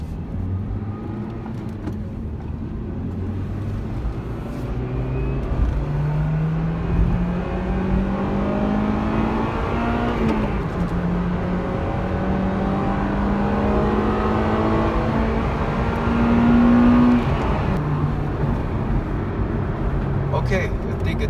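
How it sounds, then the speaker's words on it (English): An Acura RSX Type-S engine fitted with an aftermarket air filter revs up and holds, its tone climbing steadily through a long pull before dropping back, loud and near, with some talk around it. "I think it's still got the VTEC action going"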